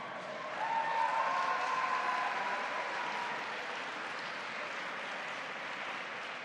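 Audience applause at a New York bill signing for the Clean Slate Act: a broad, even patter of clapping that swells near the start and then holds steady, with a faint tonal whine running over it early on.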